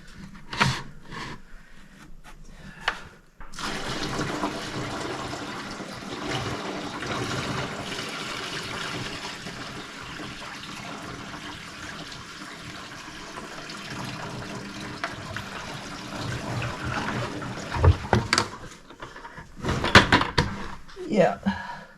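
A boat's bilge pump runs with water for a sustained spell, a steady rushing, gurgling wash that is fairly close. It starts after a clunk, and people talk around it near the end.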